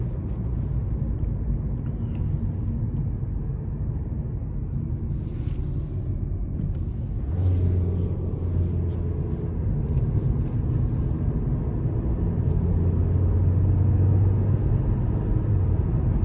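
A 2021 Nissan Versa SV, a non-turbo small car, accelerates on the road with a steady low engine and road rumble heard from inside the cabin, the drone rising and thickening partway through as speed builds.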